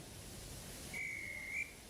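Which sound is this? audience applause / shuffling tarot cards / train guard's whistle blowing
train guard's whistle blowing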